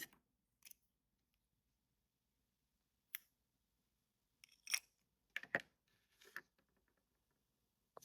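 Small scissors snip crochet yarn in a few quiet, sharp clicks scattered across a near-silent stretch, with a cluster of close cuts near the end.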